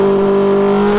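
A four-rotor rotary engine car on a dyno holds a steady, loud high-rev drone with strong sustained tones, running continuously without pause.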